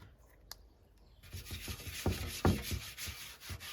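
Fingers rub wax over a rusty metal sculpture, producing a soft, close, continuous scuffing with a few louder strokes, faint and alone after a brief tap.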